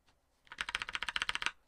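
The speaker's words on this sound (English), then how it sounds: "Excuse the new keyboard being very clicky-clacky. But it is a clicky-clacky keyboard" Rapid burst of typing on a new clicky mechanical keyboard, about fifteen crisp, evenly spaced keystrokes in quick succession, close and fairly quiet, with no voices.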